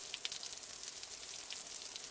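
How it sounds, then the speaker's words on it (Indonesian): Steady soft rain patter from the Sakura School Simulator video game, a continuous faint hiss of drops with occasional slightly louder splashes, heard alone without talk. "Iya, hujan."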